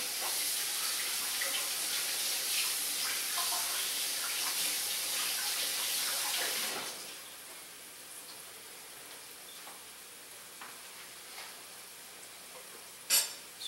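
Cornstarch rinsed off under a running kitchen tap, a steady rushing water hiss that stops abruptly partway, leaving quiet room tone and a brief clack near the end.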